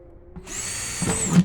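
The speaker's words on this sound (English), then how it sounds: "I'm using a 7/32 drill bit" A power drill fitted with a 7/32 bit whines up to speed and bores holes in the bottom of a plastic planting bucket, a close, continuous high whir that grows rougher as the bit bites in, with no voices.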